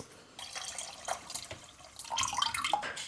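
Clean water poured into a container while making homemade rice wine, heard as faint, close splashes and drips that come in irregular bursts and grow busier toward the end.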